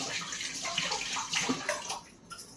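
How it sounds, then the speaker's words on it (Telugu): Water pours into a vessel to make buttermilk with salt and cumin, a close, fairly quiet splashing trickle that runs steadily and tapers near the end. "ఇప్పుడు తగినంత వాటర్ పోసుకొని"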